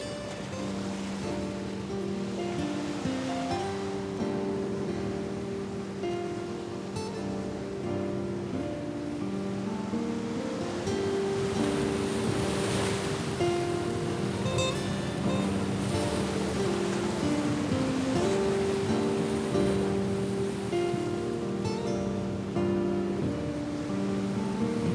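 Atlantic Ocean waves break below craggy sea cliffs in Donegal, a steady, continuous wash of surf heard from a distance under a low musical drone.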